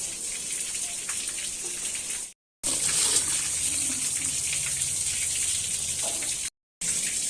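Water flushing through a solar water heater pipe being cleaned with acid, a steady splashing, hissing flow with two brief silent breaks, moderately loud and unaccompanied by speech.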